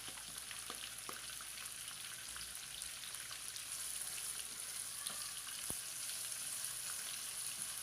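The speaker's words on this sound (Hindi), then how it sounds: "प्याज को हम मीडियम फ्लेम पे फ्राई करेंगे, गोल्डन ब्राउन होने तक फ्राई करेंगे।" Onions fry on a medium flame for black chana pulao, giving a steady, even sizzle with faint crackles and small spatters throughout, close by and with no voices.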